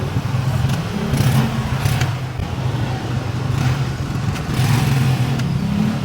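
A car engine idles and revs in traffic, a continuous low hum swelling and easing in waves, close and fairly loud.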